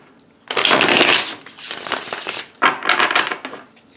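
Wild Unknown Tarot deck being shuffled up close, loud riffling card flutters in three bursts, the first longest, with crisp papery texture and brief gaps between.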